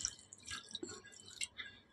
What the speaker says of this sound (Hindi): और उबलने के लिए हम पानी डालेंगे